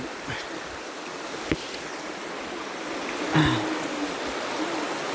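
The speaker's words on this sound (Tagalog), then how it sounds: "dito na kami sa ilog" Continuous rushing of a river near a banana farm, broad and steady, with a couple of faint knocks and splashes nearby.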